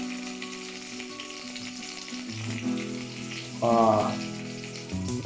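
Spiced brinjal curry, made with aubergines grown on a terrace and seasoned with turmeric and salt, sizzles steadily in a pan with a loud burst of stirring near the end.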